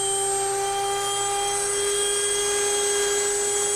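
A hand router mounted in a router table cuts into a wooden workpiece as it is lowered onto the bit, making a steady, loud, high-pitched whine that stays unbroken for the whole stretch.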